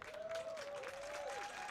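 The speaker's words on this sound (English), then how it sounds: "as Marco Bernardini receives his warm ovation by the home crowd" A home crowd at a Lansing Common FC outdoor football match gives a warm ovation to a retiring coach, steady applause and clapping filling the air with a faint tonal whine running across it.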